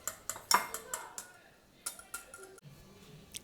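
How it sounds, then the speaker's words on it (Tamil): A spoon or whisk clinks against a bowl while milk and olive oil are stirred together for eggless mayonnaise, with several light, irregular metallic taps close by and a voice speaking between them. "இது கூட ஆலிவ் ஆயிலை கொஞ்சம் கொஞ்சமாக சேர்த்து நம்ம மிக்ஸ் பண்ண ஆரம்பிக்கணும்"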